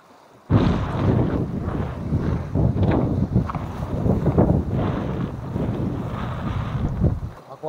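Strong wind gusting across the microphone on a fishing boat under dark skies, a loud continuous buffeting roar that starts abruptly and holds steady, with no voices over it.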